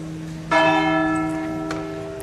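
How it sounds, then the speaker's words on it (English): A church bell near Wijchen castle strikes once, loud and fairly close, its rich ringing tone lingering and slowly decaying. "Oh, that's a pretty decent bell."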